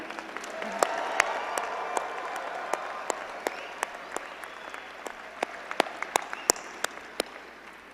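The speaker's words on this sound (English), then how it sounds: "Graduates, please join me in giving them a round of applause." Thin, scattered applause from a commencement audience at a university business school graduation, with a soft crowd murmur and a handful of sharp individual claps growing slightly more frequent toward the end.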